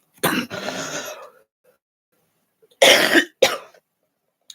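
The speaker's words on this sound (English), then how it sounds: "Ooh, big cough." A single big cough, loud and close, followed after a pause by two more sharp coughs in quick succession, with no talk.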